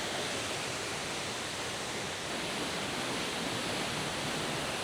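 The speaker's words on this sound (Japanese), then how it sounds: "めっちゃ綺麗、幻想的な滝です。" A tall waterfall in rural Tokushima, Shikoku, gives off a steady, broad wash of rushing water that sounds faint and even, with no talking.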